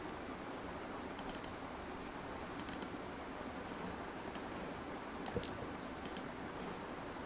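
Data typed into a database table on a computer keyboard, quiet scattered clusters of light key clicks against a soft background hiss.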